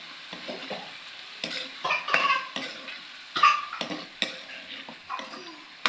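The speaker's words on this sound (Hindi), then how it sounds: "चिकन को हम लोग प्याज और लहसुन के साथ तकरीबन 5 मिनट तक फ्राई करेंगे।" Chicken with onion and garlic sizzles and fries in a pan while a utensil stirs and scrapes against it in irregular bursts, close up and fairly quiet.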